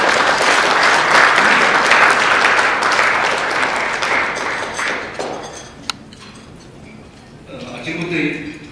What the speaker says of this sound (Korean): 여러분 힘찬 박수로 맞이해 주십시오.